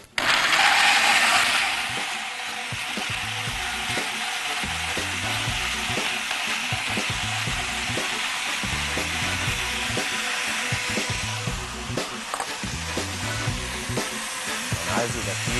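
Blender whirring steadily while blending pesto sauce with walnuts, Romano cheese and olive oil in a restaurant kitchen, loud and continuous throughout with a brief louder surge at the start.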